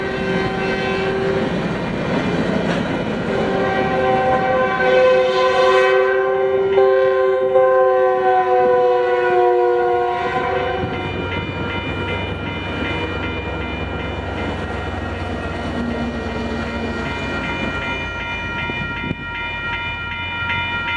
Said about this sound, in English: that southbound front runner I was talking about finally made its way through